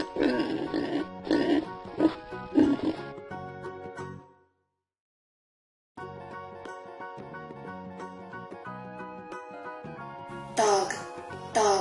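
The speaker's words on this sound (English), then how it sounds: "Pig," A cartoon-style pig oinks and grunts in a few short bursts over background music, then the music carries on alone after a brief pause.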